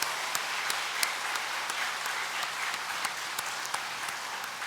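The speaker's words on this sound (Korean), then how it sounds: "큰 박수로 나시겠습니다." A church congregation at a Sunday service claps in sustained, dense applause after a choir and orchestra performance, steady and somewhat distant, without talk.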